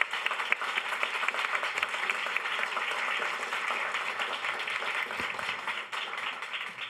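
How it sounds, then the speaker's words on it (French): Sustained applause from a conference audience after a climate and growth debate, many hands clapping steadily at a fairly even level for several seconds, with no speech. "Je pense qu'on peut les applaudir."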